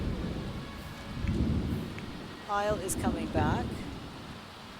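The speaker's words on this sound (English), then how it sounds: "In this thunderstorm." Thunder rumbles and rain falls during a thunderstorm in The Sims 4, a steady low roar with swelling rolls, while a person speaks over it.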